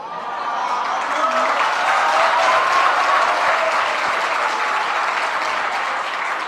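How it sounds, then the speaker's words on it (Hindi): An audience claps steadily throughout, a dense, fairly loud wash of applause, at a Hindi religious question-and-answer gathering, with faint chuckling mixed in. "तो तुमने तो तालियां बजा दे"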